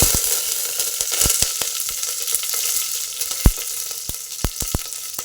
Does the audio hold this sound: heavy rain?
no